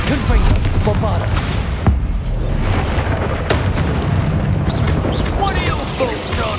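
Spell blasts from a Hogwarts Legacy duel, a dense run of loud booming explosions and bursts over continuous game noise, with a sharp hit near the two-second mark.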